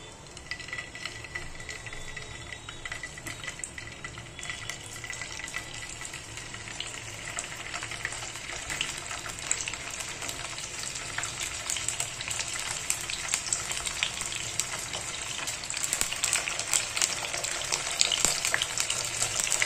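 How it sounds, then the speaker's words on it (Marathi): Marinated paneer frying in hot oil for tandoori paneer, giving a dense, steady crackling sizzle that holds close and fairly loud throughout and grows slightly stronger toward the end, with no voices. "आता हे तेलामध्ये टाकते मी फ्राय व्हायला."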